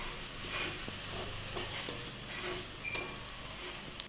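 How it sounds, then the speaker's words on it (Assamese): Tomatoes seasoned with salt and turmeric stir-fry in a pan, a steady close sizzle with scraping stirs and a few light utensil clicks running throughout, no voices. "নিমখ হালধি দিয়াৰ পিছত এইখিনি আমি অলপ সময় লৰাই ভাজি থাকিম"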